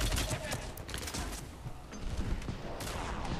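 Enemy gunfire in the video game Mass Effect, during a Tuchanka shroud facility battle: dense, dry bursts of shots crackle throughout, mixed with game effects and a voice at times, fairly loud and close.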